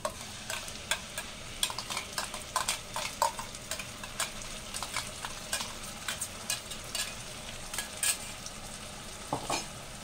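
Spice paste for boal fish kalia fries in a pan with a soft continuous sizzle, broken by frequent sharp clicks and scrapes of a utensil stirring against the metal.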